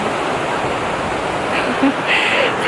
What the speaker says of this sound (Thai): มันก็จะสุดทางมันก็จะเป็นน้ำตกนี้